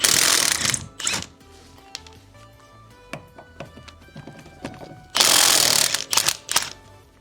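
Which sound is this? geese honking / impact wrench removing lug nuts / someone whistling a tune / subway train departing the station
impact wrench removing lug nuts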